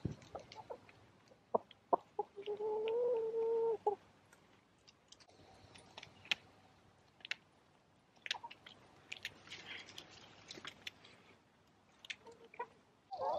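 Backyard chickens peck and cluck while eating sweet potato leaves, with scattered sharp clicks and pecks, a short run of low clucking early on, and soft fowl calls throughout at close range.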